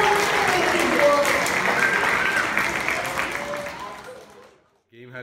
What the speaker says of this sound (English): let's give them a round of applause to be such wonderful individuals.